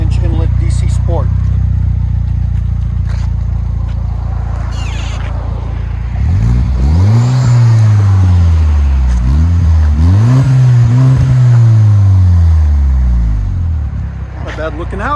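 An Audi A4 S-Line with a high-flow cat and a DC Sport exhaust revs hard several times, loud and close, with rising and falling engine pitch after a quieter idle opening.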